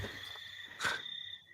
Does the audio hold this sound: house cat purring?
no